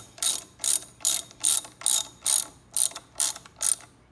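A ratchet clicks in nine quick, evenly spaced bursts, each one a short crisp series of pawl clicks, as a cup holder mount is tightened on a 2020 Indian Roadmaster Dark Horse motorcycle. The bursts are close and clear with no voices.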